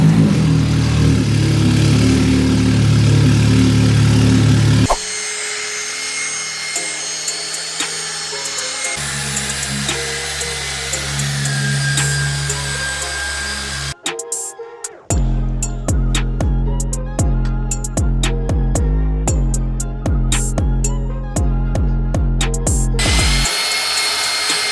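A machine polisher works on a Porsche 911 Carrera GTS in a detailing shop, its motor whining steadily and changing pitch, with rapid rhythmic buzzing pulses and brief pauses between passes.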